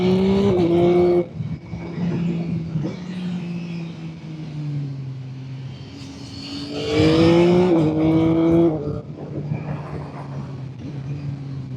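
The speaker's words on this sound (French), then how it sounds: "vous allez me dire si on entend la moto ou pas, si on entend l'échappement" A motorcycle engine drones and revs, its exhaust note rising and falling through gear changes, fairly close and steady throughout.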